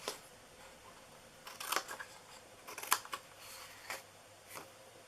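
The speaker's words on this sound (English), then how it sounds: "And then on the sides, you're just going to cut these in." Scissors snipping paper cutouts for a zoo-themed birthday treat box, a few quiet, sparse crisp cuts scattered over a soft background, close by and without speech.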